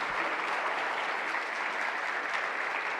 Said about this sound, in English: please give a round of applause to Professor Nunes